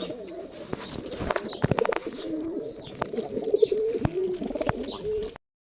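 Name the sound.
pigeons cooing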